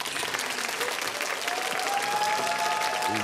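A studio audience on a Ukrainian evening talk show applauds steadily for a solo fundraising concert, a dense, even wash of clapping with a faint sustained tone rising through the second half.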